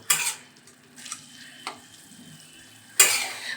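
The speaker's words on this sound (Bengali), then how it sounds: "চিংড়ি মাছটা দিয়ে দিলাম। চিংড়ি মাছ দিয়ে আর একটুখানি কষাবো" Shrimp fry in a pan for mocha chingri, a soft steady sizzle broken by a few sharp scraping stirs of a utensil against the pan, close and without talk.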